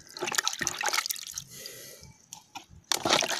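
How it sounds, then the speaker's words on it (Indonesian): Water poured over the soil of a freshly transplanted vanilla plant, with a steady watery splash and drip close by, broken by brief handling noises. "Nah, jadi disiram biar tanah tidak kering ya."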